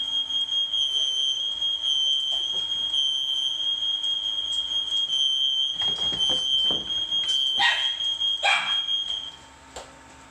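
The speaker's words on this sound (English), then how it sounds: "there's my stupid alarm" A loud alarm beeps over a Behmor 1600+ coffee roaster running in manual mode, a steady high tone held for most of the stretch before it cuts out near the end, with a few scattered bumps and clatters.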